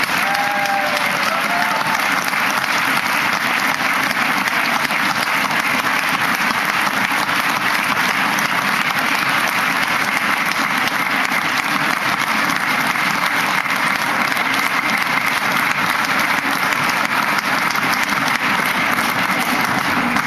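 A large audience applauds to welcome Senator Wells at a bill signing for a statewide smoking ban. The clapping is loud and steady, a sustained wash that lasts around twenty seconds with no pause.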